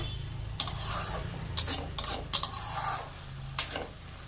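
Spinach mixture is stirred in a pan on a gas flame at medium-high heat. The spoon scrapes and clinks against the pan four or five times, over a soft steady sizzle, close and fairly quiet.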